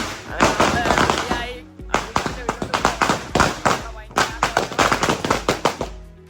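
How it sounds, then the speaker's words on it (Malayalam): Rapid firecracker bursts at a Vishu festival celebration crackle and pop close by in dense clusters, separated by brief lulls. "ഭയങ്കര പടക്കം പൊട്ടിക്കലും പരിപാടിയൊക്കെയാണ്."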